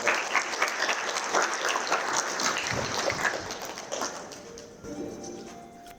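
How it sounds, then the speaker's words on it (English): An audience at a sustainable cities summit applauds a panel with dense, steady clapping that fades toward the end, while a few faint voices rise as it dies down. "Maybe let's give them a round of applause as"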